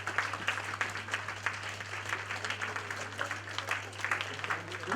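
A standing audience at an entrepreneurship lecture claps loudly and continuously, a dense steady patter of hands with a constant low electrical hum beneath it and some faint voices mixed in.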